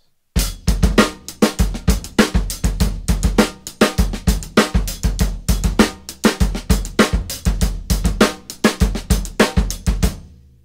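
A steady drum groove with crisp hi-hat strikes in a repeating triplet-like pattern, kick and snare hits underneath, played loud and alone.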